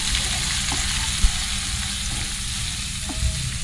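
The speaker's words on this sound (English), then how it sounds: "I'm gonna fry up the onions now." Red onions fry in olive oil in a pan, with a steady, close sizzle and a few soft stirring knocks, and no one speaking over it.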